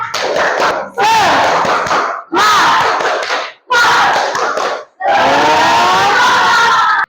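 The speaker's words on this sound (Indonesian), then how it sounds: "Tepuk semangat" A classroom of students performs a rhythmic spirit clap chant, tepuk semangat, in loud bursts of shouted voices and clapping, separated by brief pauses, with the final burst longer and more sustained.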